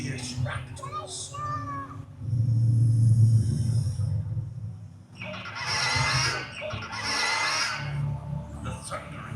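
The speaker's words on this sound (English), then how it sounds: "The fierce raptors." Shrieking raptor calls from a dinosaur show sound effect at an outdoor attraction in Pigeon Forge, with repeated harsh screeches over a deep rumbling bed, loud and layered, mixed with narration.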